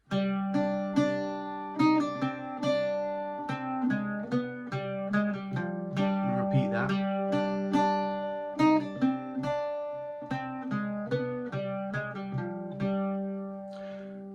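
An Irish bouzouki plays the A section of a tune in basic form with little ornamentation, a bright run of plucked, ringing notes over open-string drones, close and solo.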